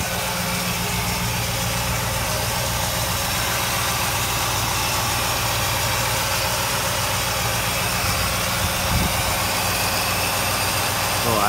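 Close, steady idle of a 1969 Oldsmobile Cutlass V8 with the engine bay open, a throaty rumble with a faint mechanical rattle holding constant throughout, no voices.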